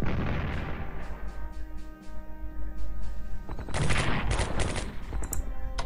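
Artillery and gunfire from the World War II strategy game Strategic Command WWII, set in fighting in Libya, North Africa: a dense run of booming shots and rattling bursts that builds into louder, sharper volleys toward the end, with no talk.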